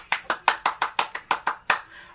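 A single person claps their hands about ten times in a quick, fairly even rhythm, each clap sharp, close and distinct, with no talking.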